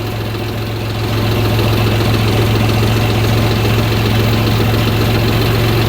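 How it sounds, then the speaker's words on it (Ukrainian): A YTO 244 SX tractor engine idles while warming up, a loud, steady, close diesel drone with a rapid knocking pulse and no voices. "тракторецька хай собі прогрівається"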